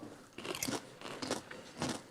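Crunchy salty chip bitten and chewed with a scoop of berry cheesecake dip, three crisp crackling crunches spaced about half a second apart, close and fairly loud with no talking.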